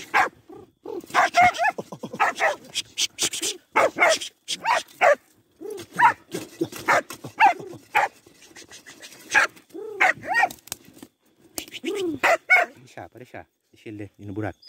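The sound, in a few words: hunting dog barking at an armadillo burrow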